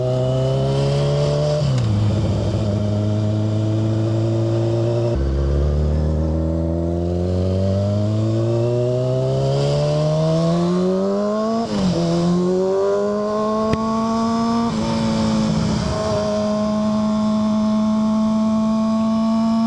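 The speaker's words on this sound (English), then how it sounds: "I forgot how loud this bike is." A loud motorcycle engine roars steadily while riding on the I-75 highway, its pitch rising and falling through gear shifts, with wind noise underneath.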